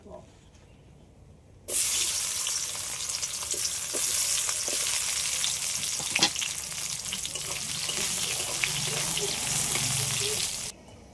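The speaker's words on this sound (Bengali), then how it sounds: "এই মাছ ভাজা তেলের মধ্যে বেগুনগুলোও ভেজে নেব" Eggplant frying in hot oil left over from frying fish, a loud, steady sizzle starting suddenly and running for several seconds, with occasional stirring clicks before it cuts off.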